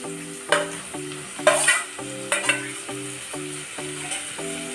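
Beetroot frying in a pan over low heat for beetroot bharta, with repeated rhythmic spatula scrapes and stirs over a continuous sizzle, close and fairly loud, a faint tonal hum underneath.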